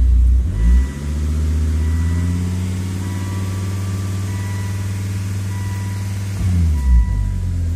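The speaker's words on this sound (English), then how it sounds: "So I'm going to try and step down on it once, just see what it does" A Volvo S60R in reduced engine performance mode sits at a low rumbling idle, with a single revving swell near the start and another toward the end.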